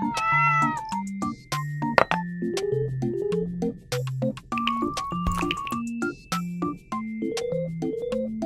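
Repeated cat meows, loud and close, rise and fall in a steady, tune-like sequence with a few faint drips and tinkles in between.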